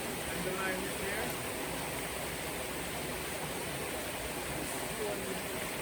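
River water rushes continuously at Roaring River in Westmorland, Jamaica, a steady broadband wash of flowing current filling the whole stretch without a break.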